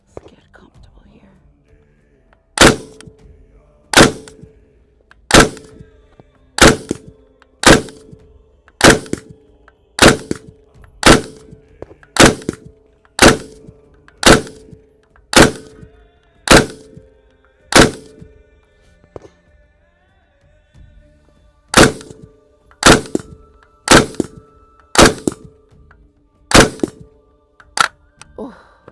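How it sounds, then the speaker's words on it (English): An M249 chambered in 5.56 fires a long string of loud, sharp single reports at an outdoor range, roughly one every second. A short pause comes before a final group of shots. "So my M249 will be making us some noise with that"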